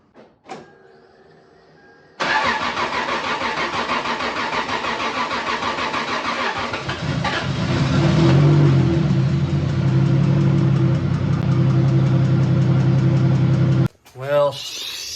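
A repaired engine in a car with a previously blown engine cranks and fires up after about two seconds, running loud and rough, then revs harder and settles into a steady idle before cutting off near the end.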